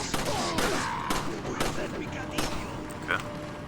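Scattered gunshot blasts in Resident Evil 4, several sharp booms at irregular intervals over continuous game noise and music, fairly loud and close.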